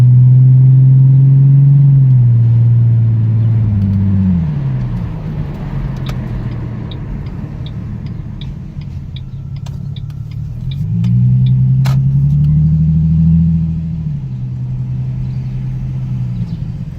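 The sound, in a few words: 2009 Mustang V6 aftermarket exhaust revving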